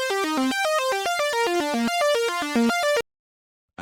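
Super saw chords from FL Studio Mobile run as a downward arpeggio: rapid, evenly spaced stepping notes falling in repeated bright synth patterns, loud and alone, stopping suddenly before a short silence.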